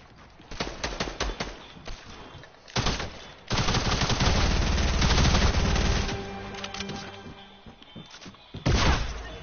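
Shotgun fire in a video game: loud, sharp blasts in a rapid burst, then a longer stretch of heavy, sustained gunfire and booming impacts, with scattered shots near the end.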